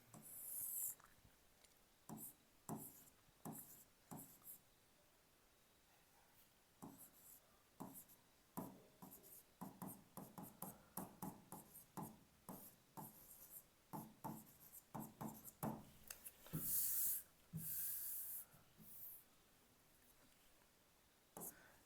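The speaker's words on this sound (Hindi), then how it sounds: "तो हम इसको एक साइड में लिख लेते हैं" Chalk or marker strokes scrape across a board during a maths lesson: a close, quiet run of short scratching bursts in uneven rhythm, growing denser toward the end, with almost no talk.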